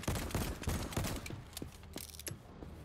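Rapid bursts of weapon fire from a new gun in the video game Voidtrain, close and loud, coming in quick repeated volleys that thin out into scattered shots.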